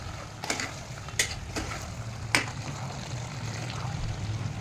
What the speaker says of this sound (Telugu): ఇట్లా మటన్ మంచిగా ఫ్రై అవుతూ ఉండాలి